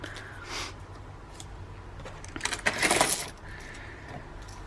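Loose coins clatter and jingle as they are dropped together, a bright metallic burst near the middle of the clip, close and fairly loud, with quiet background between.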